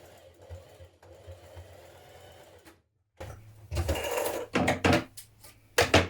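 Stitching down a skirt waistband side seam, a sewing machine runs softly at first, then after a brief silence breaks into several louder, uneven bursts of whirring.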